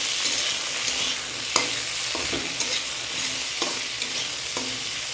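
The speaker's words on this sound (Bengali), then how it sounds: "আর দেব চিড়ে রাখা শুকনো লঙ্কা। এবার আবার একটু নেড়ে দেব।" Dried red chillies fry in hot oil in a pan as they are stirred, giving a continuous bright sizzle with scattered scraping knocks of the spoon against the pan, close and steady.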